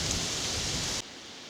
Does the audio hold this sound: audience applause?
no